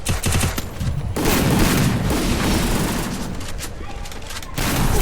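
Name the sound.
grenade explosions in the video game Free Fire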